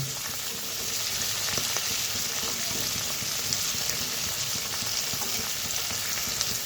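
Onion and cashews fry together in a pan for shahi paneer, making a fairly quiet, even crackle and sizzle that runs continuously with small pops and no talking.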